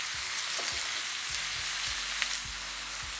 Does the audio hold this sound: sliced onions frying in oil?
yes